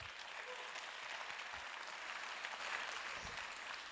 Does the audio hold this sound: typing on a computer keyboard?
no